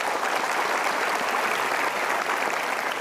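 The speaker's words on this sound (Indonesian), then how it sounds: "Boleh berikan tepuk tangan sekali lagi untuk Gita Mara dan tentunya Bapak Mario Teguh." An audience claps together at an evening talk event, continuous dense applause that stays loud and even throughout with no gaps and no voices over it.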